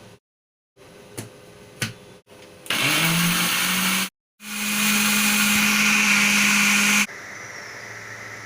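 A kitchen blender whirs through olive oil, milk and lemon juice for a mayonnaise-style sandwich spread. A few clicks come first, then two loud, steady motor runs split by a brief stop, ending in a quieter hum.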